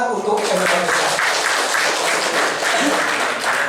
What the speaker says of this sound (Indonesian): Tepuk tangan untuk MI Islam.